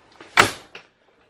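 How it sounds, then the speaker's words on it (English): A door on a 2018 Coachmen Freedom Express Ultralite 275BHS bunkhouse travel trailer swings shut with one firm, close thud, followed by a softer latch click a moment later, then quiet. "I'm going to close this door behind me."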